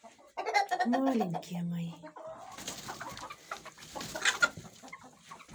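Chickens cluck in a snowy village coop, several birds near the microphone in short bursts and trills, while someone speaks softly among them.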